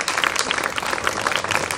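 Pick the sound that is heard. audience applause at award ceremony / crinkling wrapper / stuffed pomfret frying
audience applause at award ceremony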